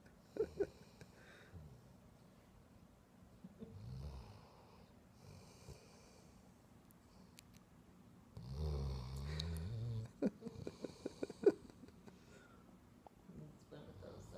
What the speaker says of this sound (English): I want you to see how much he snores.